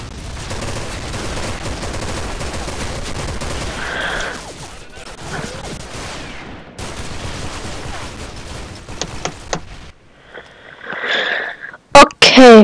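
Gunfire rattles in the online shooter S.K.I.L.L Special Force 2, with bursts of shots and sharp impacts that grow sparser, then a few loud cracks at the end, heard among game effects and some talk.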